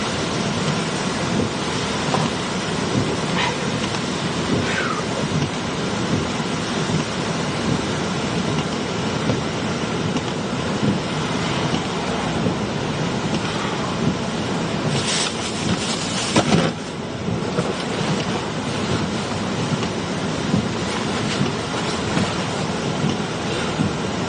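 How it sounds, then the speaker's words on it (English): Strong roaring hurricane wind during Hurricane Debby's flash flood emergency, a steady loud broadband rush buffeting the microphone for the whole clip, with a brief harder gust near the middle. "You guys can hear the wind"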